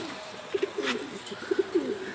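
Racing homer pigeons coo softly in short, repeated throaty bursts, close by and fairly quiet over a faint background hiss.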